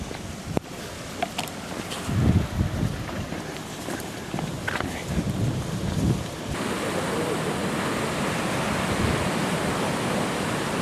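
Ocean surf at the Hanga Roa fishing harbor on Rapa Nui, a steady broad wash of waves and wind, with some footstep-like thumps and handling noise early on.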